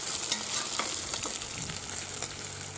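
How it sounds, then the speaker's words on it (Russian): Hot oil sizzles and crackles steadily in a kazan, with a dense, close, continuous frying hiss and occasional sharper pops. No voices. "Тут горящее масло."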